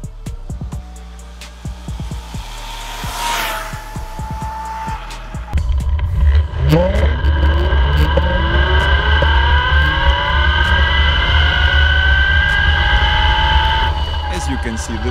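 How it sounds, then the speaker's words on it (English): An iTank boosted electric scooter rides flat out at top speed, around 70 km/h, its loud rising motor whine and wind rush growing stronger after a few seconds, with tonal sweeps and a speaking voice over it. "now let's find out the maximum speed of the scooter"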